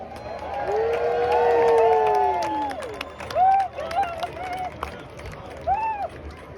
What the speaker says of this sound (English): Let's have a big cheer for Orkney.